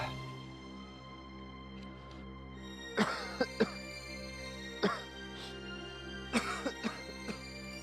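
A person who is unwell with a bad cough coughs in several sharp bursts, two or three hacks grouped together, over a steady low hum in an indoor room.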